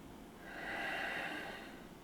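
A single soft, airy breath during a gentle hatha yoga flow rises and falls over about two seconds, close and quiet.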